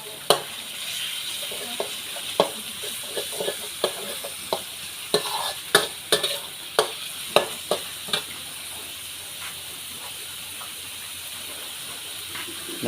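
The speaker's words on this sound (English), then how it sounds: "mixing in the chilies to make sure it gets in the meat" Meat and chilies stir-fried in a hot wok for Thai basil stir-fry, a steady sizzle punctuated by sharp, regular scrapes and clanks of the spatula roughly every half second, close and clear without talk.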